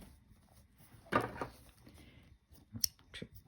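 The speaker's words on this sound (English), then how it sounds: "Trim any threads." Scissors snip loose threads on a handmade sewn fabric pouch with a lace zipper, a few sharp close cuts spaced across a quiet room.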